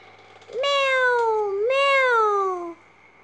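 A kitten gives two long, close, wavering meows in quick succession in a children's story, clear and loud over a quiet background.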